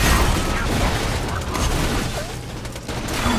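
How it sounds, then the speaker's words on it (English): Gun firing in a Borderlands-style shooter, rapid shots blending into a loud, busy wash of game effects, with a few brief tonal chirps mixed in. "you shoot your little gun"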